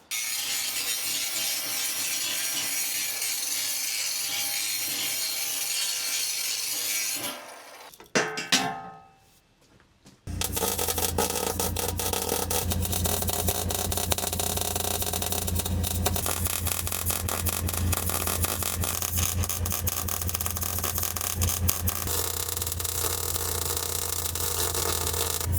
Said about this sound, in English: Some cleaning up on this with the grinder